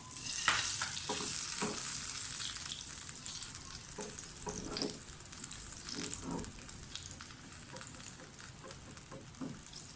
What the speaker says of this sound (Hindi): पैन गरम हो गया है, घी डाल दें।